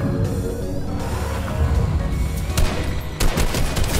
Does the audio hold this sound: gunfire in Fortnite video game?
yes